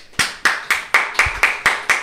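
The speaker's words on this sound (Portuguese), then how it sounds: "Esse episódio merece palmas." Eight crisp, evenly spaced hand claps, close and loud, each a sharp slap in a quick steady rhythm, heard alone without any talk.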